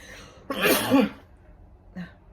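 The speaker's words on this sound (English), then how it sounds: "So hold on, I gotta sneeze." A single loud, explosive sneeze burst, followed after a pause by a short faint sniff or exhale.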